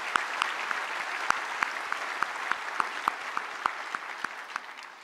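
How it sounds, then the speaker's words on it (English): Steady applause from a large audience at the IAAPA Expo 2019 kickoff event, a continuous wash of clapping with a few sharp individual claps standing out near the front. "Let's give that a round of applause."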